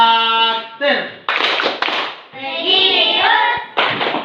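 A group of children chanting in unison, broken up by bursts of quick rhythmic hand clapping, close and loud in a classroom.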